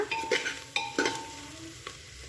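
Sliced oyster mushrooms frying in oil in a pan, with a soft sizzle under a few clinking stirs of a utensil against the pan, close and fairly quiet, no voices.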